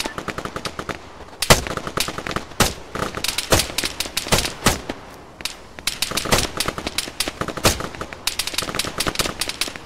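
Arma 3 soldiers trading gunfire, rapid bursts of automatic and single rifle shots cracking throughout at close and mid range with no gaps of quiet.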